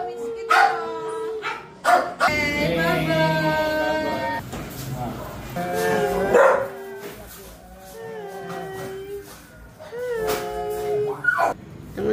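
Puppies yip and bark in repeated high, bouncy bursts close by throughout, with people talking excitedly over and between the barks.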